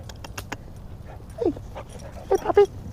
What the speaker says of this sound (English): Hi, puppy dog.